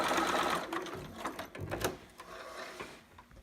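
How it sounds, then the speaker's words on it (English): A sewing machine back stitches in quick rattling bursts, a mechanical whirring chatter that stops and restarts as the stitch direction reverses, close and moderately quiet, with no talking. "And back stitch again once I get to the end here."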